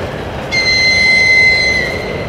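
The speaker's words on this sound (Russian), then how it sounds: "Электричка." An electric commuter train passes close by with a loud, steady rolling roar and a sustained high-pitched metallic squeal from the wheels, swelling and then fading slightly.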